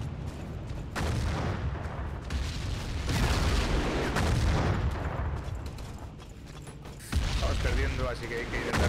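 Gunfire and explosions in the video game Battlefield 1942, with dense rattling shots and booming blasts running continuously under a loud battle din, while a voice talks over the action.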